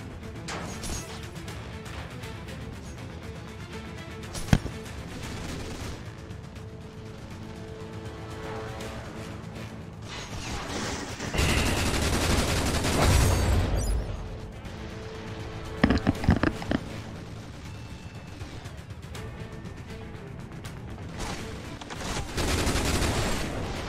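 Bursts of light machine gun fire in the shooter CrossfireX, loud and sustained around the middle and near the end, with sharp isolated shots and impacts in between over a busy game soundscape.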